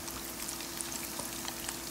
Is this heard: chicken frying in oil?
yes